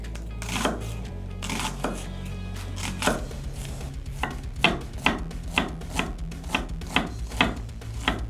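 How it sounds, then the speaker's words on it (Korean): Onion sliced with a knife on a cutting board, shown being prepped for risotto in a kitchen, making a steady series of crisp, close chopping taps that quicken into a regular rhythm, with no talk. "기본적으로 일단 양파를 좀 썰어주고요"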